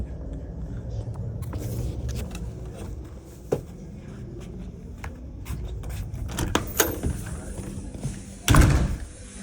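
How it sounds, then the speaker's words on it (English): Doors slammed inside a house: a few dull thuds over a steady background hum, with one sharp, loud slam near the end. "Why are you slamming doors?"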